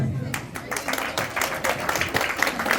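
An audience applauds at a children's swimming race event, a dense, steady patter of many hands clapping at moderate volume for a few seconds with a murmur of voices underneath.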